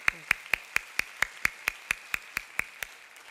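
Rhythmic clapping from a church congregation giving thanks, about fifteen sharp, evenly spaced claps in a steady beat, close and fairly loud.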